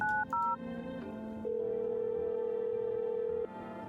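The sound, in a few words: telephone dialing tones in video game No, I'm not a Human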